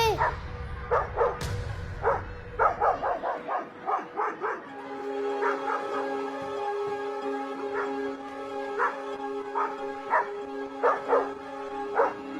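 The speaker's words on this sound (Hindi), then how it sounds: "स्कूल में फिर से कुत्ते घुस गए।" Several dogs bark repeatedly at a school, sharp yips and barks in irregular bursts at moderate distance, over a sustained tonal background and some low rumbling at the start.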